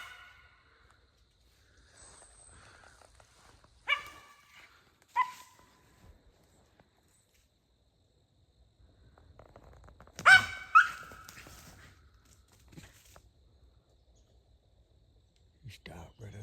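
Roscoe, a squirrel-hunting dog, lets out a few sharp barks in the woods at a squirrel, scattered and moderately loud amid quiet outdoor ambience, with soft speech in between.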